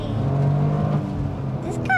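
A 2023 Toyota GR Corolla accelerates briskly from inside the cabin, the engine rising in a steady droning pull, while a voice briefly talks and a child's high squeal cuts in at the end.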